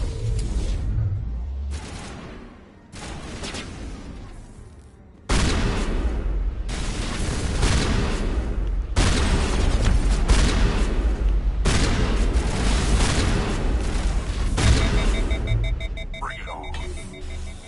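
Shotgun blasts in Mass Effect combat: heavy, spaced broadband booms recur through the clip, loud and close, amid battle noise with occasional voices.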